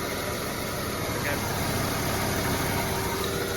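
A 1995 Ford F-150 idles steadily with its A/C compressor engaged and running, a continuous close engine drone with no break across the span.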